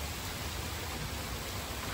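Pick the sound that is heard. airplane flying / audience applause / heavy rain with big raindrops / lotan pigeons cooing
heavy rain with big raindrops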